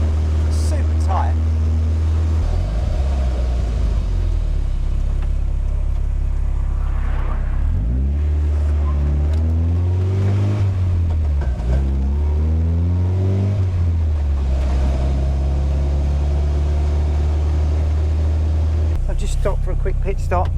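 Indy RX-5 160 car with a tight Mazda 5-speed gearbox driving and accelerating, a loud steady engine drone climbing and falling in pitch through gear changes, with speech over it.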